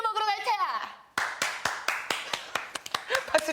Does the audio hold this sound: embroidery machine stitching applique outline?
no